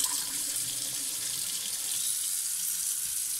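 Warm water pouring from a kitchen tap to rinse out a sink after unclogging, a steady, bright, hissing stream that runs unbroken and fairly close.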